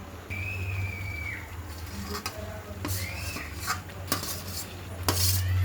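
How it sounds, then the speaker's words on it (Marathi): Corn and capsicum fry in a pan over a medium flame as a utensil stirs them, giving intermittent metallic scrapes and clinks close by over a low steady hum, with no talking. "एकदम मीडियम फ्लेम पे इसको फ्राई करते रहना है और मिक्स करते रहना है।"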